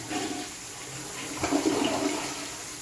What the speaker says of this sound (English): You can put it on the full cold and flush the toilet.